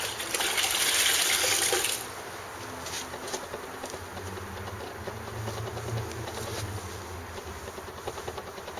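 A wet sponge is wrung and wiped in water while cleaning freshly laid epoxy grout, giving a close burst of splashing and dripping for about two seconds, then quieter steady wet rubbing and trickling.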